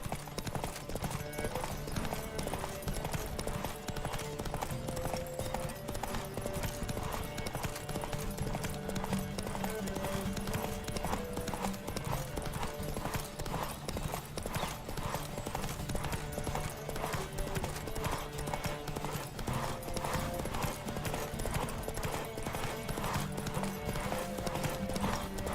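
Rapid, steady clip-clop of a horse galloping in The Witcher 3, with continuous rhythmic hoofbeats over in-game music, the occasional snort or whinny mixed in.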